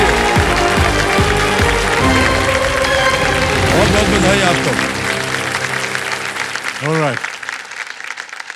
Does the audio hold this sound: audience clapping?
yes